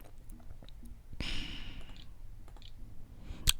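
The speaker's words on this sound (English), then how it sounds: "I hope y'all can't hear me clicking and typing and carrying on" Faint scattered clicks and taps of a keyboard and mouse sound close and quiet, irregular in rhythm, with a soft hiss midway and one sharper click near the end.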